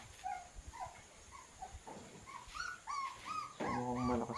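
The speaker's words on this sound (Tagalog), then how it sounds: "Tapos tayo, may aso." A dog whines and yips in a string of short, high, faint cries that grow more frequent, ending with a harsher bark-like burst, heard outdoors at a distance against a quiet background hiss.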